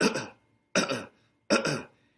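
Three separate coughs, evenly spaced about a second apart, each a short harsh burst with a trailing rasp, close and fairly loud with silence between.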